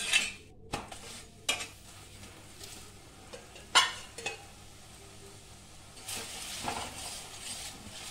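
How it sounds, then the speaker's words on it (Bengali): A cheese and sweet potato paratha fries in refined sunflower oil in a pan. A soft sizzle runs underneath sharp metallic scrapes and clinks of a utensil against the pan, close up. "এবারে আমি এতে রিফাইন অয়েল দিচ্ছি এটা সানফ্লাওয়ার"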